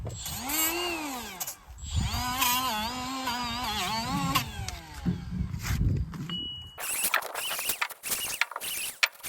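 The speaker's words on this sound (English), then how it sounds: "we're gonna go back with a flapper wheel on a die grinder, and we're gonna clean the center of these caps" A die grinder fitted with a flapper wheel scours dust and rust from the centres of bulldozer roller caps during a Cat D6K2 undercarriage job, giving a close, loud whine whose pitch rises and falls as the tool loads against the metal.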